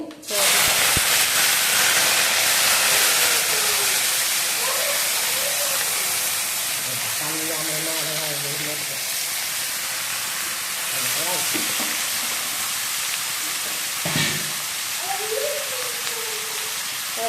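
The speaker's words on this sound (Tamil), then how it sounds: "உப்பு போட்டு கொஞ்சம் வதங்க விடணும் நல்லா வதங்க விடணும்" Finely cut onion, tomato and green chilli fry in a pan after mustard seeds for a dry fish gravy, a loud hissing sizzle throughout, strongest at the start, with a voice talking over it.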